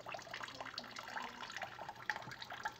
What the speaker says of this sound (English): now we have the tote inverted just to get that last small amount of water out of the tote